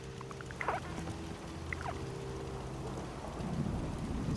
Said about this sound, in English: it rains a lot here